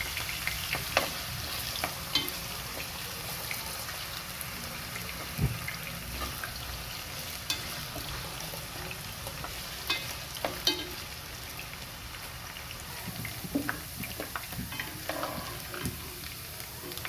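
Chicken frying in a hot pan for a chicken curry, with a steady sizzle and occasional stirring scrapes and clinks running continuously at a moderate, close level with no talk.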